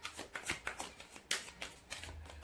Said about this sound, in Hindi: जब तक मैं शफल कर रही हूँ मेरी एनर्जी से कनेक्ट कीजिए गाइस